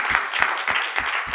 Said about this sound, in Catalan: Sí, primer un aplaudiment, sí.